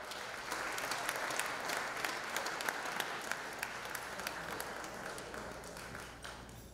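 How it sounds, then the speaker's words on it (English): Crowd applause at a stuntmen gala, a full room clapping with distinct sharp individual claps poking through, holding strong before tapering off in the final second. "let's give everyone and yourselves a round of applause"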